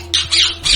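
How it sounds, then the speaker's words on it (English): A parrot gives three loud, harsh squawks in quick succession, close and clear with no talking. "Parrot."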